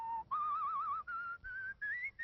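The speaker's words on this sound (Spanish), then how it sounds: "silba como pocos viejas melodías vascas" Clear melodic whistling, close and alone, a few sustained notes with wavering vibrato that step upward in short phrases.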